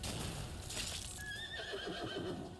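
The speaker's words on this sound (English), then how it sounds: "Loud neigh." A horse whinnies loudly in the video game Arknights, a rising, quavering neigh up close that trails off over a couple of seconds against a soft game backdrop.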